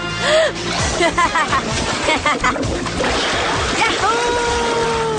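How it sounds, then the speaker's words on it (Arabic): Children swimming and splashing in warm water, with repeated close splashes and sloshing under lively chatter and exclamations from several voices. "يا بيبا، اسبحي معنا. الماء هنا دافئ"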